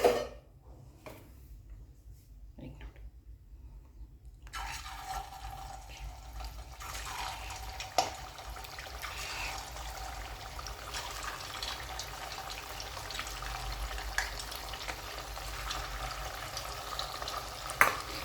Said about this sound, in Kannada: ಈಗ ಇದನ್ನು ಮೀಡಿಯಮ್ ಫ್ಲೇಮ್ದಲ್ಲಿಟ್ಟೇ ಕರೆದ್ಬಿಟ್ಟು ತೊಗೊಳೋಣ್ರಿ